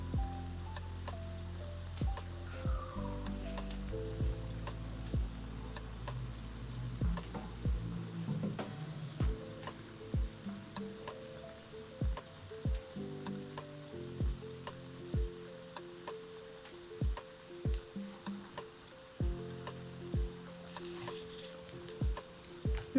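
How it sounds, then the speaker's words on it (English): Baby marrow and carrot fritters frying in oil in a pan over medium-low heat, a soft steady sizzle with scattered sharp pops and clicks throughout, no one speaking. "So our fritters are frying now."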